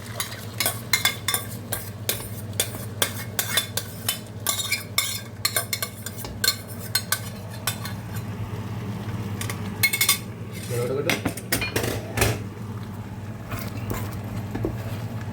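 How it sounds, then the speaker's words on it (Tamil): Pumpkin sauce being stirred into noodles in a pan, with a utensil scraping and clinking against the pan in a steady run of close strokes, a faint sizzle underneath. "நாங்கள் இப்போ செய்த சோசையை பூசணிக்காய் சோசையை மிக்ஸ் பண்ண போகிறோம்."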